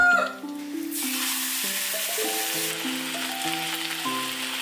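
Vietnamese bánh xèo batter hits a hot pan with a loud, steady frying sizzle that carries on under background music.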